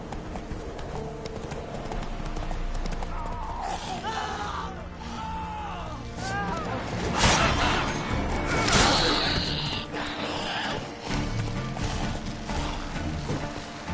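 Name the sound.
horse galloping, from video game The Witcher 3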